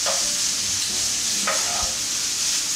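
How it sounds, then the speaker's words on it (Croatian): Squid stuffed with vegetables and pancetta fries in a pan over low heat while being stirred, giving a constant close sizzle with brief scraping stirs. "na laganoj vati pržimo dok sastojci ne omekšaju"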